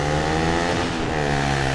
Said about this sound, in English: Why do motorcycles have to be that loud?